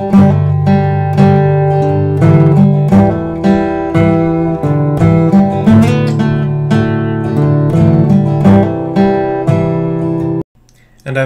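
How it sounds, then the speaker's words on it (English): Close, fairly loud acoustic guitar picks out the repeating main riff of a song, layering ringing melody notes over a low rhythmic pulse before cutting off abruptly near the end. "the main riff that plays throughout the song"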